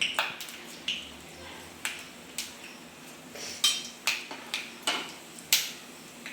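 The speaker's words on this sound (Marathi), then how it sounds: "आता आपले शेंगदाणे तळतळायला लागले" Peanuts crackle as they fry in a pan, giving sharp, scattered pops and ticks at an irregular pace over a faint, steady background hiss.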